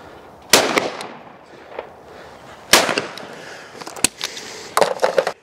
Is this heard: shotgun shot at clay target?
yes